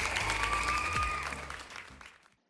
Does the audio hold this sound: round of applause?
yes